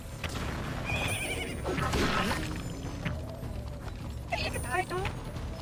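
A horse whinnies amid clatter and mechanical noise in the video game Samurai Vs. Zombies Defense, with a voice talking over it at moderate level.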